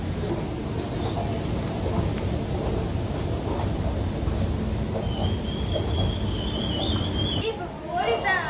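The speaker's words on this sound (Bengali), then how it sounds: "প্ল্যাটফর্মে ট্রেন দিয়ে দিয়েছে" Train pulling into a platform at Haridwar station, a continuous rumble of wheels with a long high brake squeal near the end, and voices talking in the busy background.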